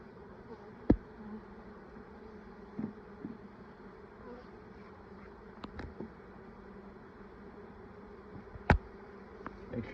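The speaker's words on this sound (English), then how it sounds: "The bees are clustering around her." Honeybees buzzing steadily as a package is installed into a hive, a continuous close drone with a few sharp knocks and clicks from handling frames.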